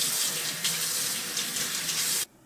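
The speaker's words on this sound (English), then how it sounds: "Now I'm going to rinse it under the water with the brass brush." Steady running tap water splashes close by as a copper earring is rinsed under the faucet with a brass brush after pickling, a constant bright hiss that cuts off abruptly near the end.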